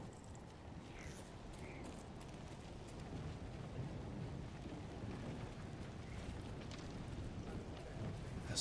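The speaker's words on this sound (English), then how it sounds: "Storm's coming." Low rumbling thunder of an approaching storm in the Ghost of Tsushima video game, a faint continuous roll with rain-like hiss building slightly toward the end, no talking.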